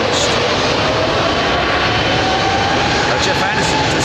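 A jet airliner passes low overhead at Heathrow Airport, a loud continuous roar filling the whole stretch, close and unbroken.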